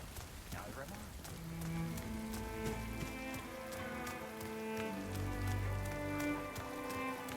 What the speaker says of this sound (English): It's a little rainy out.